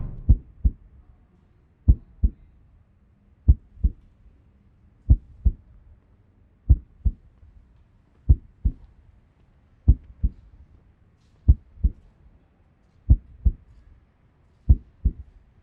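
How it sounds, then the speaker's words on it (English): Heartbeats in the video game Wasteland 3 thump in steady doubled pulses, lub-dub pairs repeating about every one and a half seconds, muffled and low, alone without other sound. "Heartbeats that I don't recognize."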